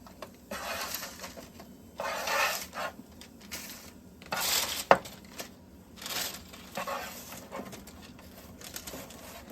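A utensil stirs and scrapes oven fried potatoes in a pan in intermittent bursts of rustling and scraping, with one sharp clack partway through, close and moderately quiet.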